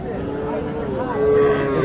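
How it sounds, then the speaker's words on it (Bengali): A small native cow moos in a long, drawn-out call at a busy cattle market in Naogaon, Bangladesh, with crowd noise in the background. "দেশি একটি গরু"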